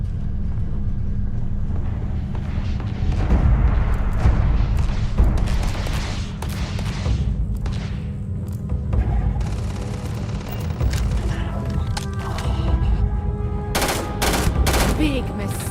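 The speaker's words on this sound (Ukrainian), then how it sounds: "Чуєте, десь хтось стріляє." Distant gunfire in the Starfield video game, scattered muffled shots and booming bursts over a constant low rumble, with a few sharper cracks toward the end.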